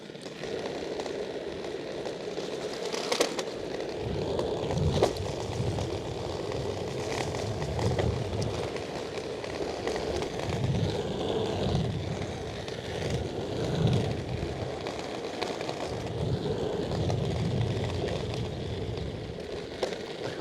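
A quad-motor, dual-rear-axle electric skateboard rides along, giving a continuous rolling wheel roar with motor whine and rumbling surges over uneven pavement, steady and fairly close with no talking.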